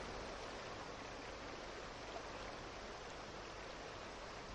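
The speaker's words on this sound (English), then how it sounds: "The Mughals have sculpted the stones of the waterfalls and fountains, and this lends an added charm to the water which flows through them." Steady, even wash of water running over sculpted stone waterfalls and fountains in an outdoor Mughal garden, a continuous broadband rush with no breaks, no voices and no other sounds for its full length.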